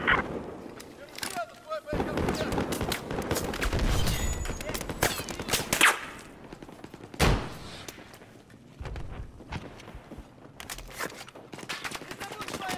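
Battlefield 4 gunfire: repeated loud, sharp shots and bursts crack close by in irregular volleys, alongside heavier blasts, with voices talking over the fighting.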